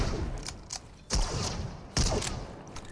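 Gunfire in a multiplayer squad shooter video game, several short sharp bursts at moderate distance: a couple of faint shots early, then two louder cracks about a second apart against quiet background noise.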